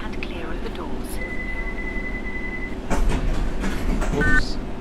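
Subway train departing in World of Subways on the Circle Line, a low steady rumble and hum with a brief tonal whine and some clunks as it starts moving, with talk over it.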